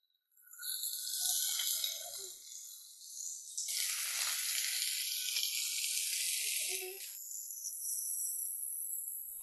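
Onions dropped into hot oil already holding mustard seeds and cumin, a bright hissing sizzle that swells suddenly, eases, then surges again and carries on steadily close by, with no speech over it.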